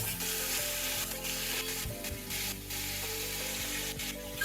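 Chicken sizzles and fries steadily in a pot as it is sautéed for yakhni soup, with a dense, close crackle and occasional stirring scrapes throughout.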